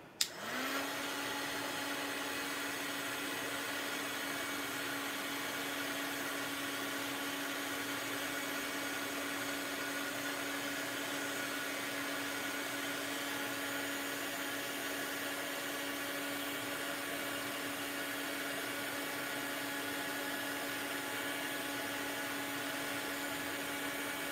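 A hair dryer drying clear gesso or matte gel medium switches on with a click and then blows as a steady, loud, unbroken whir with a constant tone for over twenty seconds, with no talking.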